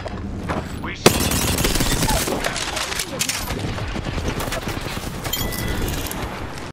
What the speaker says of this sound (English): did you guys know you can shoot through the floorboards as well?